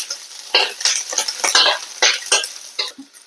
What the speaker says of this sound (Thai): ทอดกุ้งแห้งของเราก่อนเลยค่ะ ทอดกุ้งแห้งให้หอมเลยค่ะ